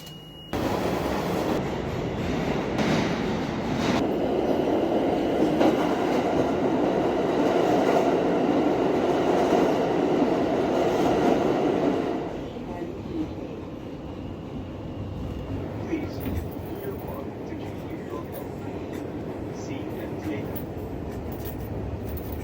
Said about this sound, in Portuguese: Tô aqui no World Trade Center agora para pegar o trem para ir para o Harlem, para Uptown.